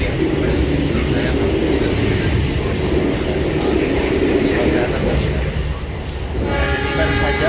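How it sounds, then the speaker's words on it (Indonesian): The Argo Sindoro passenger train pulls out of Semarang Tawang station in Indonesia with a loud, continuous rumble of rolling wagons, and a tonal horn-like sound comes in near the end. "baru saja kereta api Argo Sindoro diberangkatkan dari stasiun Semarang Tawang"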